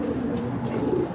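A male pigeon cooing close by, one low, throaty, rolling call held through the whole moment, with no talking over it.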